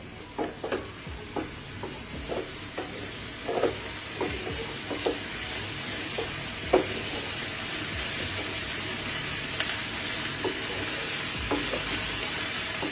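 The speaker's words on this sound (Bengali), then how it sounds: "পেঁয়াজের কাঁচা গন্ধটা যাওয়া পর্যন্ত কষাতে থাকবো। একই সাথে মিশিয়ে দিচ্ছি আদা রসুন বাটা।" Onion with ginger-garlic paste fries in oil over low heat, a steady close sizzle broken by regular scraping clicks of a spoon stirring around the pan, with no talking.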